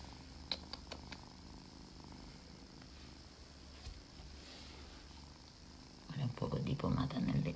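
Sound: cat purring

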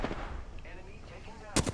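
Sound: gunfire in the video game Apex Legends

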